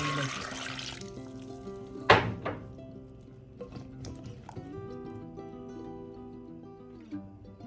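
Water poured from a vessel into a pot of ivy gourd, a brief bright splash at the start followed by quieter trickles, drips and faint clinks close by.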